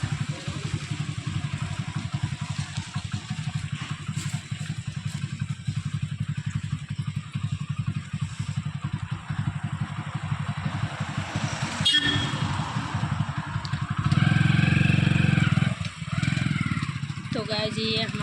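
A motorcycle engine drones continuously while people talk, with a louder, harsher burst of noise near the end.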